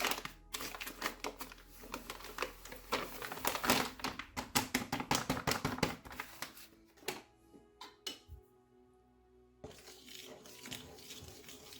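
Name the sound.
adding a kilo of flour to a bowl for bread dough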